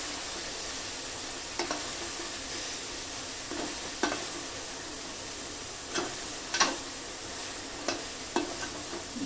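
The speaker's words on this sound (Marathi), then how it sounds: "असं हलवून घ्यायचं।" Soybean curry with tomato and crushed peanut is stirred in a pan, giving a steady soft sizzle broken by regular scraping spoon strokes, close up and without talk.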